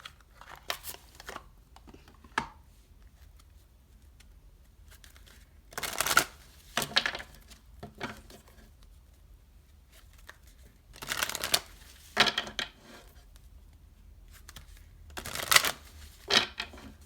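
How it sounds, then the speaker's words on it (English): Angel oracle cards being shuffled up close, several separate bursts of riffling and flapping card sounds with quiet pauses between them, no talking. "I actually want to pull some angel oracle cards."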